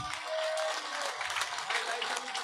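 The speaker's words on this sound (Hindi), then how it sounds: "तालियों में कमी नहीं रहनी चाहिए" Crowd applause at an outdoor village political rally in Khubru, Gannaur, steady and loud throughout with a brief low thump at the start.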